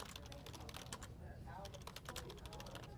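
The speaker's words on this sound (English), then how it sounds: "just kind of typing away here, getting situated on my weather computer" Quick, steady clicking of a computer keyboard being typed on at a weather computer in a TV station's weather center, close and continuous under a light room hum with some faint talk.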